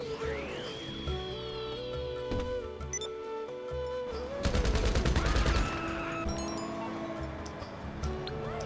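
Gunfire in a PS4 video game, heard as rapid bursts of shots under a busy mix of electronic tones and game effects, with one louder, denser volley near the middle.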